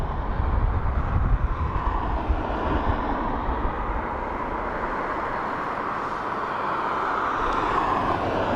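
A Ryanair airliner from London comes in to land at Dublin Airport, its steady broadband engine roar and rushing air filling the whole stretch at a moderate level, slightly stronger at first, with no talk over it.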